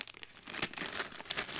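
Crinkling, rustling plastic packaging from a PR package being handled and opened, with steady close rustles and a few sharper crackles throughout, no talking.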